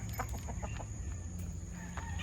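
Short, repeated clucks from a tethered backyard hen close by over a low, steady background hum, with a few brief bursts spaced across the clip.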